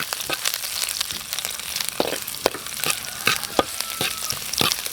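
Ginger, onion and garlic fry in a hot pan with a steady crackling sizzle. Repeated scraping stirs cut through it in an uneven rhythm, close and moderately loud.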